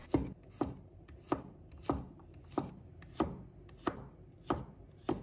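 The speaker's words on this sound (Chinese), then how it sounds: "接着我们再准备1把大蒜，把它切成小块。" A knife chops garlic into small pieces on a cutting board, nine or ten crisp, evenly spaced thuds in a steady rhythm, close up and alone.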